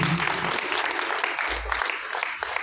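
An audience at a Brahma Kumaris spiritual gathering in Modinagar claps vigorously and continuously, a dense, close applause lasting the whole stretch with a faint voice underneath.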